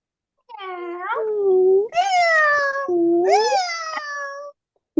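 Several voices of people at a teaching workshop mimic a cat's meow in drawn-out, rising and falling cries, three or four in a row, loud and close with no other sounds.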